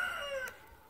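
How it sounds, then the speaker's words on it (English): On a garden plot where carrots are being planted, a rooster crows briefly and clearly, the tail end of its call trailing off in under a second, with no speech over it. "I heard you, rooster, I heard you."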